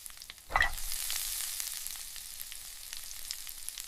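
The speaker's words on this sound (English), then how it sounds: "Listen to that sizzle." A double-wrapped rice paper roll pan-frying on medium heat, with a loud, steady sizzle that flares up suddenly after a brief quiet start and then holds a constant crackling hiss to the end.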